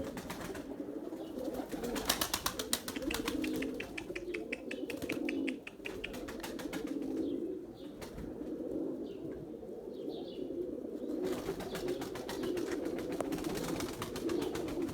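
A male pigeon in a loft coos repeatedly in low, rolling phrases, close and steady throughout, with faint chirps and the flutter of other birds around it.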